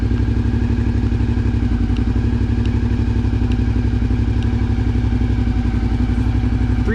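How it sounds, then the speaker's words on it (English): A dual-sport adventure motorcycle idles steadily nearby at the end of a long Utah backcountry trip, its low engine pulse running evenly throughout with faint mechanical clatter and no talking. "so I'll let the bike idle here just a little bit"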